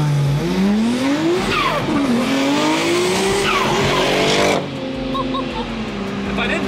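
A Nissan R34 GTR races another car with loud, close engines rising steadily through the revs, the pitch climbing, dipping at gear changes and climbing again. A voice talks briefly over the engine noise.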